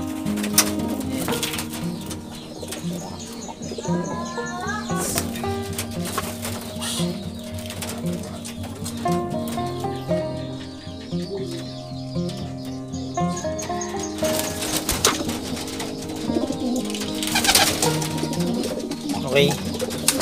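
Young racing pigeon cooing inside a pigeon loft, soft repeated coos over a steady bird-filled background with several other birds calling nearby throughout.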